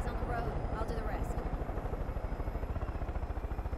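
A helicopter in the video game Far Cry 5 flies steadily, its rotor thumping in a fast, even pulse under a constant engine drone, loud and close throughout.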